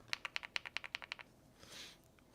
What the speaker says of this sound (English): that is a way better keyboard than this clickety-clack